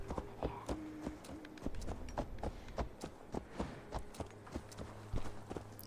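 Horse hooves clip-clop in a steady trotting rhythm in Assassin's Creed Valhalla, faint and continuous with light game ambience behind them and no talking.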